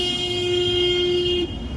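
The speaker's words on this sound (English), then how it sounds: "So that car was right to honk" A car horn blares in a single long, steady honk in city street traffic at night, lasting about a second and a half before cutting off, with traffic noise underneath.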